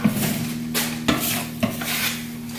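A steel trowel scrapes and spreads decorative plaster across a wall in rough sweeping strokes, with a few sharp tool contacts, close and moderately loud, with no talk.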